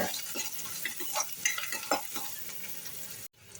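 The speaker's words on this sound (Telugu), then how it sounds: "ఆయిల్ వేడైన తర్వాత సన్నగా కట్ చేసుకున్న ఆనియన్స్ వేసుకొని కొద్దిగా వేగిన తర్వాత" Thinly sliced onions fry in about two tablespoons of hot oil, a steady close sizzle with stirring scrapes and a few utensil clinks, ending abruptly.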